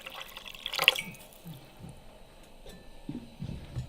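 Water is poured into a pan of moose bone broth and moose fat at a lakeside cabin in Alaska, giving a short splash and trickle followed by soft drips and quiet clinks.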